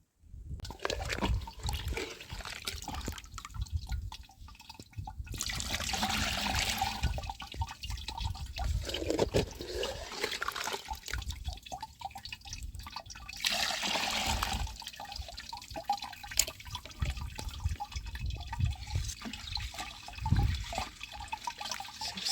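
Wet wood ash slurry is brushed through a sieve resting on an old fridge shelf, making a steady watery swishing and sloshing that carries on throughout with a few stronger surges and no talk.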